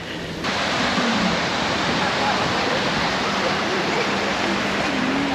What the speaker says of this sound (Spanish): Hoy está con bastante olas y nubladito